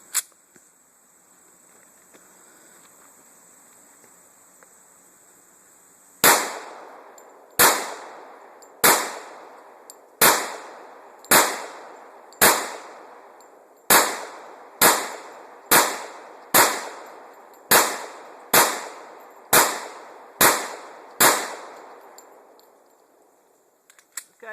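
Smith & Wesson M&P 40 pistol firing Federal hollow point rounds: fifteen loud, sharp shots at a steady, fairly quick pace after a few seconds of quiet, each with a short decaying echo outdoors.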